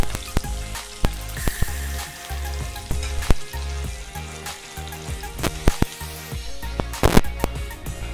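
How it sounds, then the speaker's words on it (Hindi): Chicken and onion frying on a low flame for momos, a dense crackling sizzle with sharp pops and clattering stirs against the pan, close and without voices. "चिकन फ्राई करते समय आँच को पूरा धीमी रखती है"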